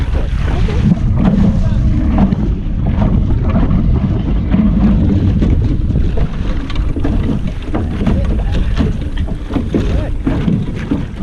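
A sailboat coming about in strong wind, with heavy rumbling wind buffeting and water noise filling the whole stretch, loud and close, while a voice speaks briefly.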